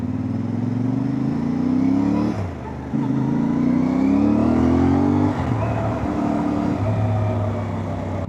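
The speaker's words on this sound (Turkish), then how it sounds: "sağdaki soldaki araçların sesleri geliyor mu" Steady engine drone of a CFMoto 450MT motorcycle rising in pitch as it accelerates, with a brief dip and gear change, loud and close with no talking.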